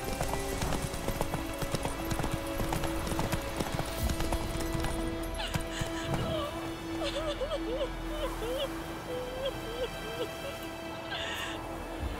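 Steady clip-clop of the horse Roach's hooves trotting in The Witcher 3: Wild Hunt, continuous and fairly close over a busy game soundscape, with a brief whinny.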